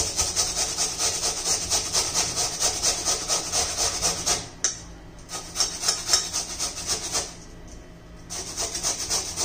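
A potato is grated by hand for a spinach breakfast dish, a loud, close rasping scrape repeating in fast rhythmic strokes with two short pauses.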